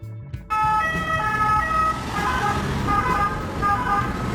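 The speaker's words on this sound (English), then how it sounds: "Ambulances in Spain, a vibrant country of 48 million people" A Spanish ambulance siren bursts in after a brief quiet start, sounding a steady, loud repeating tone pattern over street noise and passing traffic.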